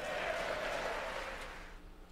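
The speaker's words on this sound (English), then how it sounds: "They were cheering for that partisan investigation part." An audience at a speech applauds and cheers, a broad, fairly faint wash of clapping that holds steady for about two seconds before easing slightly.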